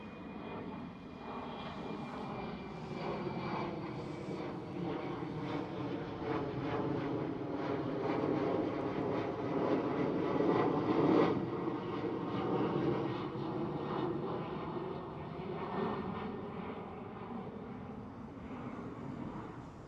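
A KLM Cityhopper Embraer E190 jet at Schiphol rumbles and whines steadily, its engine tone swelling to a peak midway and then slowly easing off as it passes.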